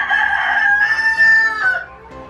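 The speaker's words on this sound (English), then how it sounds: "My rooster singing for the first time in this channel" A pet rooster crows loudly and close, one long drawn-out call with a rising then falling tone, alone without other sounds.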